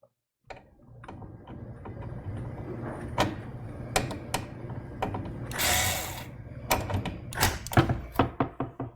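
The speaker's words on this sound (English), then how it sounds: "You hear that screwdriver clicking? That's it's hitting its torque setting." Inside a budget gaming PC build, an electric screwdriver tightens screws and gives a series of sharp clicks as it reaches its torque setting, close and distinct over low mechanical whirring, with no talk.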